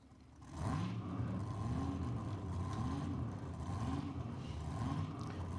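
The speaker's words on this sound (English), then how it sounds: "Hear the two cars fire into life." Two drag racing car engines rumble to life together at a dragway and settle into a loud, steady idle with deep throbbing pulses, close by and without talk.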